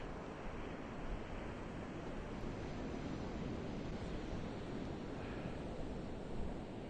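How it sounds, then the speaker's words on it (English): Atlantic surf breaks on an outer sandbar at low tide on a Fire Island beach, a continuous, moderately loud wash of rushing water and wind noise with no voices. "Now the waves are breaking on the outer sandbar."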